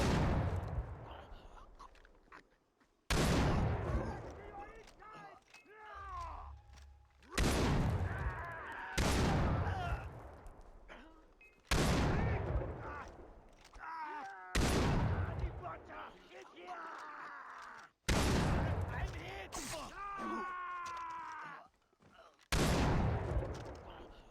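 Gunfire in the shooter video game Far Cry 3: a string of sharp, loud shots in repeated bursts every few seconds, each followed by a decaying tail, with a player talking faintly between them.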